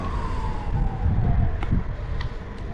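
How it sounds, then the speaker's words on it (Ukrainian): A wailing ambulance siren slides downward over traffic noise, with a few sharp clicks near the end. "Швидка допомога."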